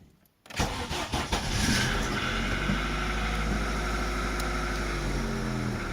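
A repaired Chevrolet Lacetti engine catches after a brief silence, then settles into a steady, loud, close-up running drone with a deep low rumble that holds evenly to the end.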